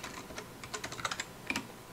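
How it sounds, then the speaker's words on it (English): Quiet, rapid keystrokes on a computer keyboard clatter in an irregular burst of clicks, close to the microphone and alone, as someone types a username at a prompt. "do you hear my keyboard? I'm typing."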